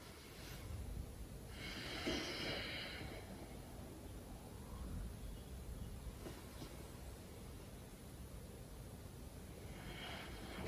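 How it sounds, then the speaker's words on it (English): Slow deep breathing during a yoga bridge pose, faint airy inhales and exhales a few seconds apart over a soft hiss. "Take 3 deep breaths here."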